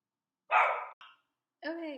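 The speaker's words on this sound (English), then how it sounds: "My dog was barking." A pet dog gives a couple of short, close barks followed by a longer whining vocalization, sounding alone against silence.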